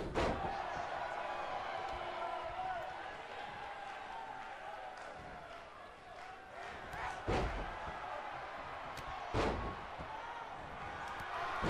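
A hurricanrana impact in a wrestling video game lands as a couple of sharp slams over steady crowd noise and commentary-like murmur, with thuds near seven and nine seconds.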